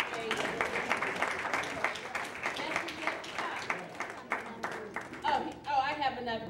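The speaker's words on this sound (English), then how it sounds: "Let's give the Lord a hand clap for praise" A church congregation at a seniors' honor service claps in praise, a dense run of hand claps sustained for several seconds before fading, with a voice speaking near the end.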